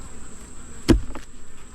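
Honey bees buzz around a beehive box on a farm, a steady close droning hum with a sharp louder thump partway through and a few fainter passing buzzes.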